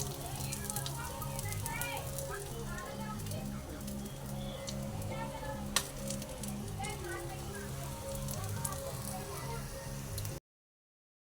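Fish fries in a pan with a steady crackling sizzle, heard beneath children's voices and people talking nearby.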